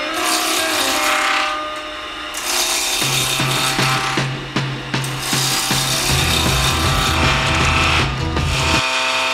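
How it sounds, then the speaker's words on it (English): A bowl gouge cuts a spinning blank of laminated yellow wood planks on a lathe, producing a continuous loud rough scraping and rasping with a steady motor hum beneath, close up and without talk. "we're going to work from this side with a bowl gouge"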